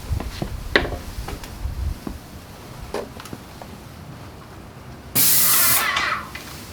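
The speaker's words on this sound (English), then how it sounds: "And then we can go ahead and spray the outside of the box" After some light knocks and clatter, a spray gun sprays sanding sealer onto a bathroom vanity cabinet box with a steady, loud hiss for about a second before cutting off.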